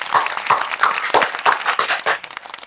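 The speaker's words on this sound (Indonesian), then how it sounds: "Luar biasa, teman-teman, tepuk tangan dong" A few hands clap in a small podcast room, a short burst of sharp, separate claps at a quick, uneven pace, close and fairly loud.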